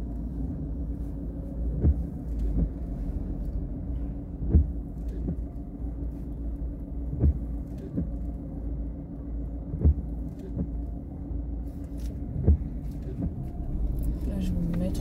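Car interior during a driving lesson, with a steady low road rumble and engine drone and periodic thumps from road joints, under an instructor and learner talking.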